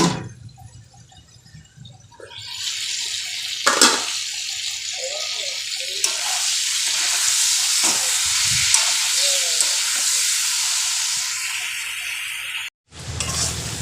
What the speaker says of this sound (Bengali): তো একটুখানি মুরগির মাংস আছে অল্প এইটা একটু রান্না করছি